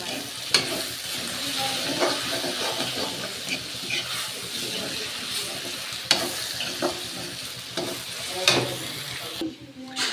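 Brinjal and potato pieces fry in oil and are stirred, a continuous close sizzle with intermittent scraping and knocking of a spoon in the pan.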